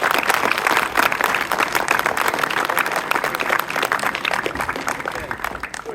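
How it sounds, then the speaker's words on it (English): A group of cadets and staff out in the field claps for a cadet's promotion to cadet sergeant. The dense, steady applause runs throughout and tapers slightly near the end, with voices mixed underneath. "Give her a round of applause."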